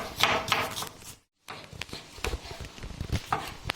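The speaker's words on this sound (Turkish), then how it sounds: "Soğanlarımızı doğrayalım." Knife chopping onions on a board for a Turkish salad, a run of quick dull taps, close and fairly loud, with a brief silent break midway before the chopping resumes.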